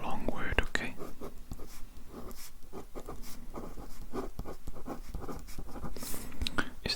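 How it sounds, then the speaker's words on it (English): A pen writes out a long word on paper at close range, giving soft continuous scratchy strokes with small taps, while a whispering voice carries on quietly through much of it. "now I'm going to write down a long word"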